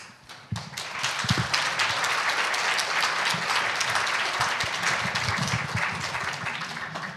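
An audience at a lecture on sexual violence bursts into applause, sustained dense clapping from many hands that starts abruptly and carries on steadily to the end.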